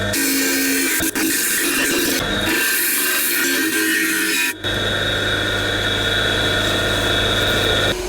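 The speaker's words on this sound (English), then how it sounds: "Now on the sander." A sander runs steadily in a workshop while a part for a Startrite TA275 bandsaw is shaped, giving a continuous loud motor hum with a raspy abrasive rubbing layered on top, with a brief dip about four and a half seconds in.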